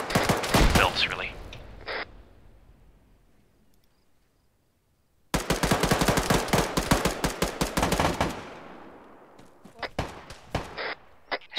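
Sustained gunfire from a video game mission, dense bursts of automatic fire at the start and again mid-clip after a silent gap, then scattered single shots, loud and close with some voices mixed in.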